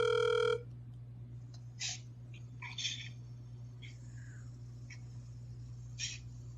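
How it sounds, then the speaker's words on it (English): A telephone rings once in a short electronic burst, followed by faint chirping and clicking sounds over a steady low hum. "I hear you answer the phone, Rael."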